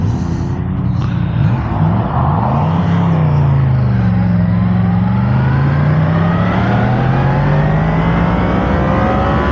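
Triumph Street Triple or Yamaha MT-10 motorcycle revving hard in first gear on a Peak District road, a loud continuous close engine note rising and falling in pitch with wind noise.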